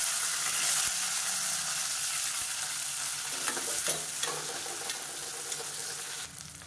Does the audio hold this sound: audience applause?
no